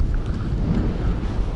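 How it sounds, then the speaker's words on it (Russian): Strong evening wind buffets the microphone while pike fishing, loud, low rumbling gusts, a constant blustery roar with no voices. "Ветер достаточно сильный."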